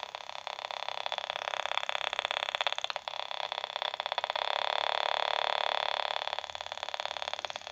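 Steady radio crackle and buzzing static picked up from an electrostatic device as its graphite stick makes contact, with rapid tiny ticks throughout, swelling louder in the middle before easing back.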